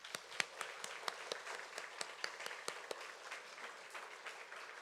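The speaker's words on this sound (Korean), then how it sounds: "우리 세례받은 모든 분들에게 축하의 박수 드리겠습니다." Church congregation applauding the newly baptized during a Sunday baptism service, a soft, distant patter of many hands with a few sharper individual claps standing out, steady and fairly faint.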